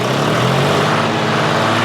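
Repaired John Deere 5310 tractor engine held at raised throttle, a loud, steady, close drone with a constant pitch and no voices.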